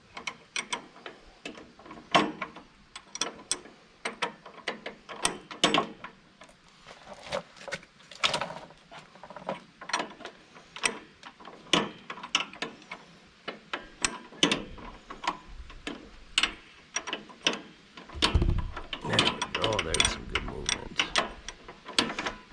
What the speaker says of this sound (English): we're taking the nut off that holds the hub that holds that friction wheel